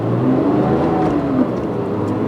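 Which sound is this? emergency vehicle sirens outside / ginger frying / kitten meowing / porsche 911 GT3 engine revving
porsche 911 GT3 engine revving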